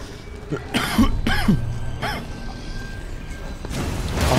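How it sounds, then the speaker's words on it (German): A man coughs several times in short harsh bursts, close and loud, during a session of the horror game The Evil Within 2, with game sound humming underneath and no speech. "Entschuldigung für den Husten."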